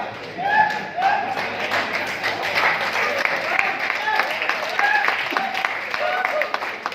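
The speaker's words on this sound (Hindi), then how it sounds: "आप लोग ताली बजा रहे हैं" An audience at a leadership training camp claps together in a room, with dense steady applause that persists, while a voice speaks over it.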